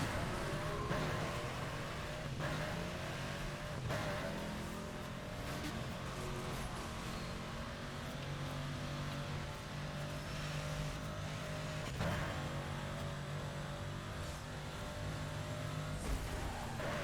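Cars race through the Burnout video game, engines roaring continuously with revving, gear shifts and occasional passing rushes, loud and sustained throughout.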